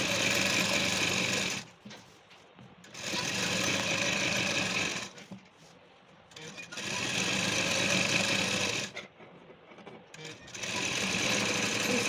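Sewing machine running in long steady bursts with brief pauses, stitching together the slanted sides of can-can skirt panels, loud and close, with a voice talking in between.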